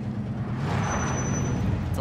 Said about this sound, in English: It's a loud-ass fucking truck.